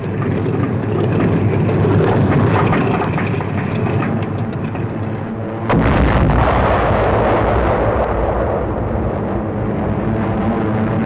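Anti-aircraft flak bursts around a plane amid a heavy, continuous rumble of engines and explosions, loud and dense, with a sharp booming surge about halfway through.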